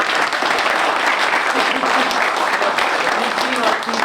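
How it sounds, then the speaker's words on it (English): A crowd at a car-show stage event applauds for Yancey, the technical guru, with loud, dense, sustained clapping filling the room while voices and cheers mix in. "Big round of applause."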